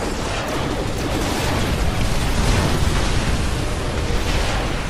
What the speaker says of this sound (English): Oh my god, man, that fucking explosion!